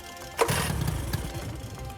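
A dinghy outboard motor is pull-started in a tinny race: one sharp yank, then a brief rough sputter of the engine catching, close by.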